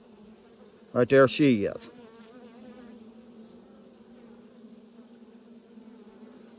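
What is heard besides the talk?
honeybees buzzing during hive inspection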